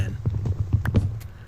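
Horse hooves clip-clop in Minecraft, a rapid series of short soft thuds close by, under faint background noise.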